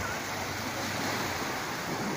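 Shallow sea waves wash steadily at a beach resort, a continuous broad rushing surf with no breaks, close and moderately loud.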